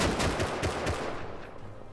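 Heavy gunfire in the survival game Rust, a dense burst of rapid automatic shots rattling loudly and continuously, with a sustained rumble underneath.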